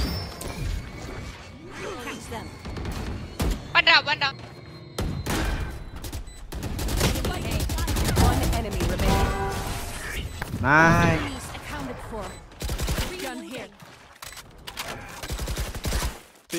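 Gunfire in the Valorant shooter game: rapid bursts of shots and sharp cracks in clusters, with smashing impacts, under a player's talk and other game voices.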